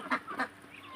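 A domestic duck sitting on eggs lets out two short nasal quacks close by, followed by quieter rustling, with no talk.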